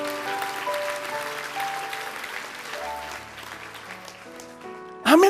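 Congregation applause during a church sermon, a soft wash of clapping with organ or keyboard chords sustained underneath, ending in a brief louder sound.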